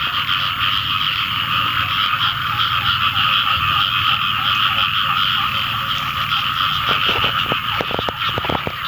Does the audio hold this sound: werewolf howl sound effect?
no